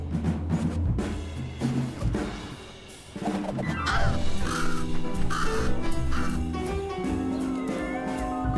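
A crow caws several times in the video game Little Kitty Big City, the calls set against busy in-game music and ambient sound.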